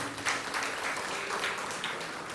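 A gathered audience applauds, a dense, even roar of many hands clapping for a couple of seconds at fairly close range with no pauses.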